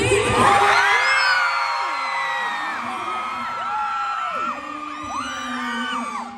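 A large concert crowd at a show in Dubai in 2024 screams and cheers loudly, high-pitched shrieks and whoops rising and falling continuously, energetic and close.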